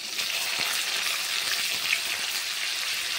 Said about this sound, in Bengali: একটু ভালো করে মশলাটা আমরা কষিয়ে নেব